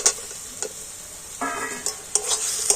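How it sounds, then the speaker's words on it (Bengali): Fried potatoes stirred into a spice masala in a pan: a soft sizzle broken by a few sharp spatula scrapes and taps, close and moderately loud, with no talking. "আলুটা দিয়ে আলুটা মশলার সাথে একটু ভালোভাবে নাড়াচাড়া করে নেব"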